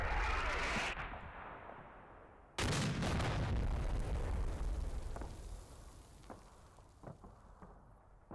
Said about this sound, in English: I want to let this artillery finish up